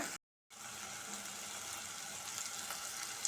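Asafoetida hitting hot oil in a pan while making Maharashtrian misal, producing a steady close hiss of sizzling that breaks off briefly before carrying on evenly.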